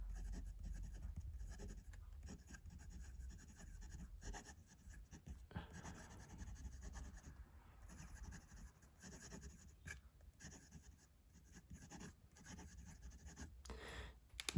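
A Franklin Christoph Pocket 66 fountain pen with a slightly stubby nib scratches quickly across paper in a string of quiet strokes and short pauses, close and faint, with no voices.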